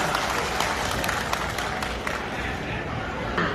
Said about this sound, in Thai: ขอเสียงปรบมือต้อนรับครับ